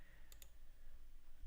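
Two quick mouse-button clicks on a computer, close and fairly crisp, over a low steady room hum with no talking.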